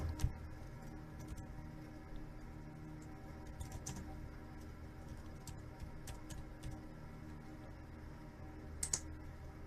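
Keys on a computer keyboard tapped while entering text for a flyer design, soft scattered clicks over a steady low room hum, with a few sharper taps near the end and no talking.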